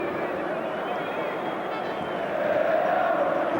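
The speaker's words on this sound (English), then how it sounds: "the crowd are getting very frustrated now" A football crowd at a Milan versus Parma match in the 1993-94 season makes a dense, continuous roar of murmuring and shouting that swells near the end, with commentary talk over it.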